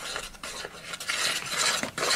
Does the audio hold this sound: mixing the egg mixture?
yes